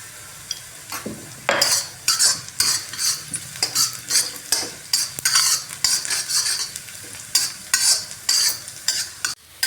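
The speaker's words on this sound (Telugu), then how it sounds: "అది జస్ట్ కొంచెం ఫ్రై అయ్యాక మనం దీంట్లోనే ఇప్పుడు జీలకర్ర కూడా వేసుకుందాం." Ajwain and cumin seeds fry in a pan while a metal spoon stirs them, making repeated sharp scrapes and clinks over a soft background sizzle, close and fairly loud.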